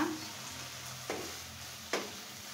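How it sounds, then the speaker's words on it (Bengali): Leafy greens and broken-up potatoes frying in a pan with a steady low sizzle, broken by two distinct scraping stirs of a spatula, close and fairly quiet with no talk. "শাকটাকে এভাবে ভেজে নেব সুন্দর মতো"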